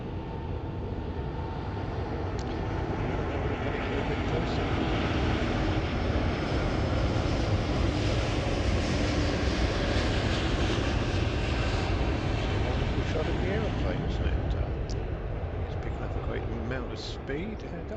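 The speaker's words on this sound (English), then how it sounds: "we can now actually see the plane on the runway there" An airliner powers down a Heathrow runway on its takeoff roll, its engines producing a broad, steady roar that swells and holds throughout, with faint talk underneath.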